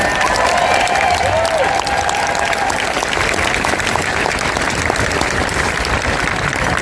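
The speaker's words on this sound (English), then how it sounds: "Give everybody a round of applause." A large outdoor crowd at a protest rally in Columbia, Missouri applauds steadily, a dense, loud wash of clapping with scattered cheers running the full length, and a brief voice rising above it near the start.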